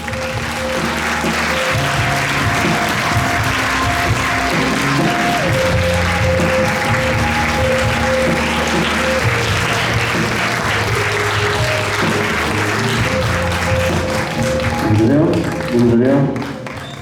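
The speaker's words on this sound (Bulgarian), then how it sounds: "Аплодисменти за актьорите." At the end of a Bulgarian amateur theatre play, the audience claps for the actors in sustained, dense applause that lasts the whole stretch, with music and some voices mixed underneath.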